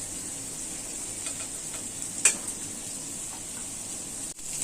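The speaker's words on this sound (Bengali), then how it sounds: "মশলাটা এখন আমি কষায় নেব" Spice masala and onions being sautéed in a pan, heard as a low steady sizzle with a few stirring scrapes and one sharp clink of a utensil near the middle, with no voices.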